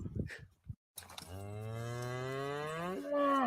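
A cow on a ranch with a cowboy and a horse lets out a long, loud, drawn-out moo that rises in pitch near the end, preceded by brief scuffling sounds and a moment of silence.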